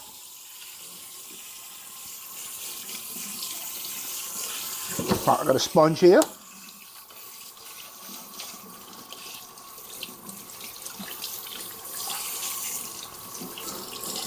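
Hot water gushes from a sink tap in short, close splashing bursts for a second or so while a waffle maker is being cleaned, and a person talks alongside before it stops and leaves a quiet room.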